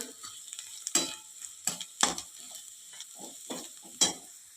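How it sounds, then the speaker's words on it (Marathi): Red chili powder, black masala and turmeric sautéing in hot oil in a pan for bitter gourd curry, with a steady sizzle broken by several sharp, close spatula scrapes and stirs at irregular intervals, no voices. "आता हे मसाले तेल सुटेपर्यंत चांगले परतून घेऊया"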